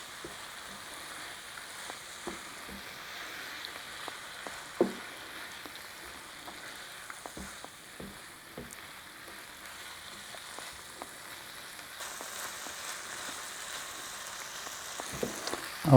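Tortilla nacho chips sizzle in a hot pan with a steady, soft crackling hiss and occasional small pops throughout, with no talk.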